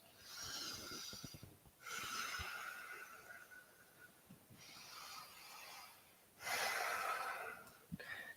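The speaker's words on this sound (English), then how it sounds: "Take some big breaths." Deep, slow breaths drawn in and pushed out during a yoga squat, several long breathy swells separated by short pauses, close to the microphone with no talking.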